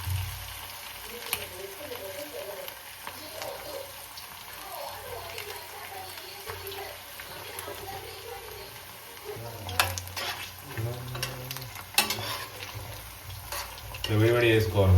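Chicken pakodi pieces coated in maida batter fry in hot oil, a steady close sizzle with stirring and clinks of a utensil against the pan, louder scraping bursts toward the end, a voice speaking at times over it.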